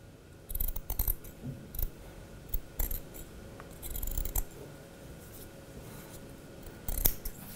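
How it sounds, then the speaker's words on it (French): Sharp scissors snip close by as they trim a fabric seam allowance down to half its width while sewing a dress, giving a series of quick irregular cuts and faint rustling of cloth. "on diminue de moitié notre rentrée de couture à l'aide des ciseaux"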